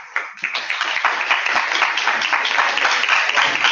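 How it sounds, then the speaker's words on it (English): Audience applause after an interview with a playwright about a drama, a brisk burst of many hands clapping that starts with a few claps and settles into a steady, full round for several seconds. "So I think that deserves a round of applause."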